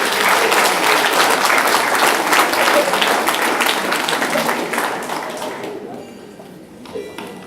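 Guests at a golden wedding anniversary ceremony in Marly break into a dense round of applause that holds steady, then thins and fades into a few scattered claps near the end.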